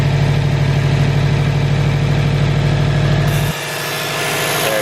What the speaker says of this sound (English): the AC compressor should kick on